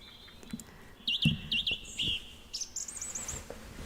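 Small birds chirp and tweet in the visual novel game The House in Fata Morgana, a series of quick, high, trilling calls and short warbles repeating over a faint background, fairly close and clear with no talk.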